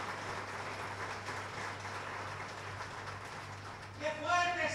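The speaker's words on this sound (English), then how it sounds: "How many of you give a great round of applause to the Word of God?" A church congregation applauds during an Easter sermon, a steady, faint wash of clapping that carries on for several seconds before a voice begins speaking over its tail.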